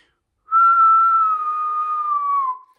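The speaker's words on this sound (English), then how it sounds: "When you're about to whistle, watch what I do when I'm about to whistle." A loud, steady whistled note made without fingers, held for about two seconds and tapering at the end, with no other sound around it.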